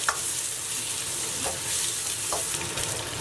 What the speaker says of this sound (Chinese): 锅里面油温再高，只要它不见明火的话，它都不会燃，所以就这样子煸炒就可以了